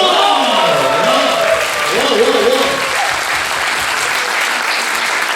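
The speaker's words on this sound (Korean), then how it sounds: "여러분 감사의 박수 한번 부탁드립니다" Studio audience at a Korean talk show applauds steadily, a dense even patter of many hands with a voice speaking over the first few seconds.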